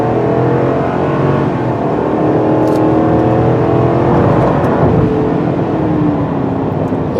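The engine of a 2019 GMC Sierra pickup pulls hard under acceleration during a highway drive. It makes a loud, steady drone with a rising whine over seven seconds, heard from inside the cab with no talk.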